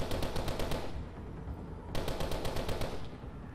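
Rapid automatic gunfire in the futuristic shooter Call of Duty: Advanced Warfare, two sustained bursts of fast, evenly spaced shots separated by a brief pause, loud and close with no talk over it.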